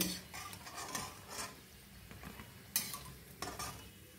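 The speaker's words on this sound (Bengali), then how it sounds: "একটু সময় নিয়ে উল্টে পাল্টে ভাজবো।" Chicken kachori deep-frying in oil and being turned over, a soft bubbling sizzle with scraping spatula strokes and a couple of sharp metallic clinks against the pan, no speech.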